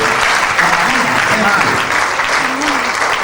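Loud, continuous applause fills a hall at the inaugural Global Midwifery Conference in Nigeria, 2016, with many hands clapping evenly while a voice speaks over the crowd.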